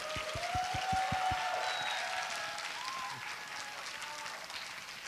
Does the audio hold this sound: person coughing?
no